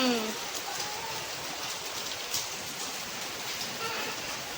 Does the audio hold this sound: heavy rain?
yes